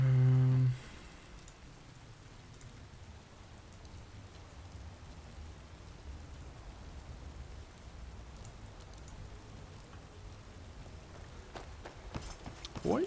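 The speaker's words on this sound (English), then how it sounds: "Why is it raining?" Steady rain falls in the video game Skyrim, a soft continuous patter on surfaces that starts after a brief opening tone and carries on evenly, with a few louder drops near the end.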